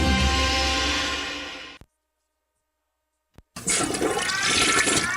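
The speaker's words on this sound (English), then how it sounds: "little Johnny flushed his toys down the toilet and now it's broke" A toilet flushes in a radio advertisement about a toilet broken by toys flushed down it: a loud rushing swirl, then a short silence, then water refilling and gurgling.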